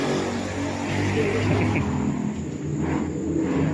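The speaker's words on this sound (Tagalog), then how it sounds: "Tabing kalsada lang itong mga kaprops kaya maingay yung mga mga motor." Motorcycle engines rumble past nearby in a continuous drone, swelling and fading as they go by along a roadside at a farmhouse resort in San Pablo City, Laguna.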